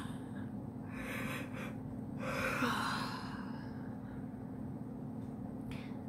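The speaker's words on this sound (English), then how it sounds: "Big yawn out." During an EFT tapping exercise, one long, breathy yawn exhales out near the middle, soft and close against a faint steady room hum, with quieter breaths before and after.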